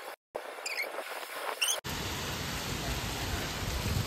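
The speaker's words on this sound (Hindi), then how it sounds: "बारिश आनी शुरू हो गई ऐसा लग रहा है" Steady rain begins falling during a windy storm, a dense hiss that abruptly swells to fill the scene after a short, quieter, gusty start.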